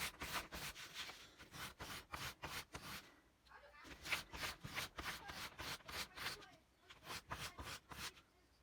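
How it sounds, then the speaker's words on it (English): A carved wooden jerkbait lure is hand-sanded with sandpaper, a close, steady run of back-and-forth rasping strokes with a short pause midway, no talking over it. "I'm just going to be using some sandpaper to sand this to shape."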